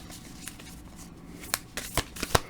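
Tarot cards are shuffled close up in a quick run of soft riffling, papery flicks and slaps that grow sharper toward the end, with no voice over them.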